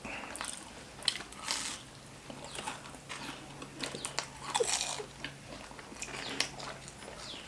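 Crispy battered deep-fried shrimp being bitten and chewed up close, with repeated crunchy bites and wet, crackling chewing in an irregular rhythm, no talk.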